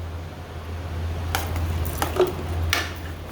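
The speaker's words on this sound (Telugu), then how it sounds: "మొత్తం నీట్గా కలుపుకోవాలి." A spoon stirs paneer curry with salt and turmeric in a pan, giving soft scraping and squishing strokes in a few brief bursts over a low steady hum.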